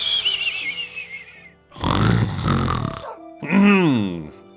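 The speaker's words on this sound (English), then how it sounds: "Ooh, the snoring should be great with the sniffle nose." A Minecraft character snoring with a sniffly nose: a long whistling nasal breath, a rough rumbling snore, then a wavering whistled snort, close and alone.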